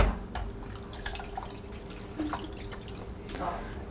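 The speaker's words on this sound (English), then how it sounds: "I'm going to put a cup of water into the Keurig." Water poured from a cup into a Keurig K10 coffee maker's reservoir, heard as splashing and dripping with a few distinct drops and light background noise.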